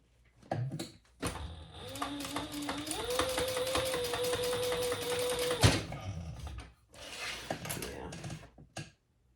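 A sewing machine stitches a row along the bottom of a handbag, running fast and close for several seconds with a rising whir. It is framed by short bursts of handling noise and quiet talk before and after.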